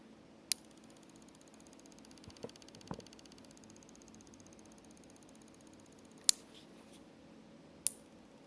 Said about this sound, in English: Still making that clicking noise